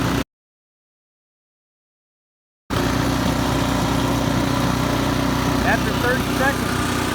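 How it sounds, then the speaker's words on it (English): A snow blower engine runs steadily with its auger turning to clear out leftover snow, a loud continuous drone that starts after a brief silent gap and holds constant to the end. "During this 30 seconds, your auger will push all the snow out of the chute"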